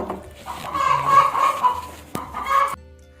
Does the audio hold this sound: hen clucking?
yes